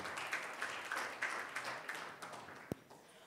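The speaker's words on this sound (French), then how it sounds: "il mérite encore d'un grand applaudissement pour ces 4 présentateurs et présentatrices" Applause from the audience for four presenters at a COP23 francophone delegates' side event, a soft, steady patter of clapping heard from some distance with a single sharper knock near the end.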